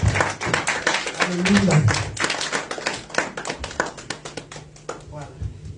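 A church congregation claps together in a fast, steady rhythm during worship, a close, dense patter of many hands over which voices shout and sing.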